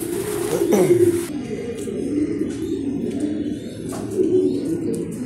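Racing pigeons in a large loft in Dhaka coo in soft repeated phrases at close range, with light chirps and a brief flutter among them.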